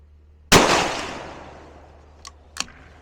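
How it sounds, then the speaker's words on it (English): A single loud rifle shot from a 6ARC loaded with 103 grain Berger VLD bullets cracks up close, its echo trailing off for over a second, followed by two quick faint metallic clicks. "We'll shoot the center target on this and do 5 of them."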